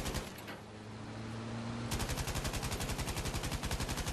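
Battlefield V gunfire: after a brief muffled stretch with a low hum, a machine gun opens up in a fast, even rattle of loud, close shots that continues steadily to the end.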